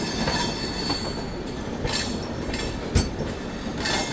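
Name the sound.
East Coast Express train running on parallel line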